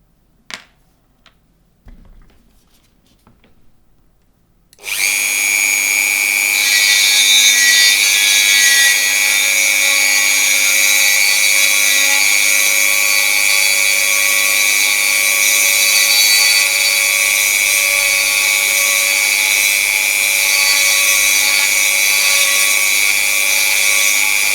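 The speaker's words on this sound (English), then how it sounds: "let's just drill out the other one." A drill boring out a part of Grado SR225e headphones during a detachable-cable mod, starting after a few quiet seconds with faint taps, then a loud, steady, close whine that runs unbroken.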